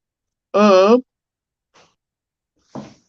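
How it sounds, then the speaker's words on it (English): A single long, drawn-out yawn with a wavering pitch, followed by two faint breathy exhales, heard close up and alone. "Excuse my yawning."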